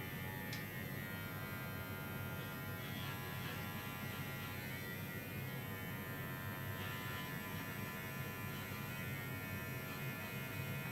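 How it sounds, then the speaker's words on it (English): A small, quiet 5-in-1 pet grooming clipper runs steadily with an even electric buzz and hum, constant and fairly faint, with no talk. "This is a 5-in-1 clipper. It's a nice little clipper. It's very quiet"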